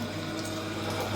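Tap water gushing steadily from a pipe into a household container, a continuous broadband rush that stays constant and fairly loud throughout with no voices.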